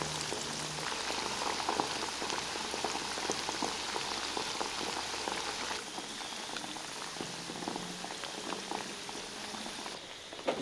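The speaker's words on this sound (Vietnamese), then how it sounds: "Mình chiên với lửa vừa ha, không chiên lửa lớn quá để tránh sườn bị cháy bên ngoài" Steady crackling and sizzling of pork ribs frying in oil over medium heat, continuous and close, with no voices.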